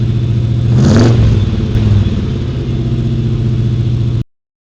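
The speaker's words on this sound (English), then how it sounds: "let's rev it up for them hot rods." A car engine revs loudly and close, on the way to a hot rod car show. One throaty rev swells near the start, then the engine settles into a rough, steady run before cutting off abruptly.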